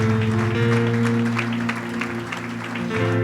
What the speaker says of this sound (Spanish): denle fuerte el aplauso al Rey